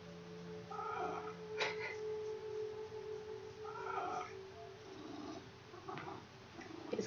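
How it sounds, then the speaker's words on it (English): A cat purring steadily up close, a loud, low continuous rumble with a few brief higher chirps mixed in. "his purr is so loud"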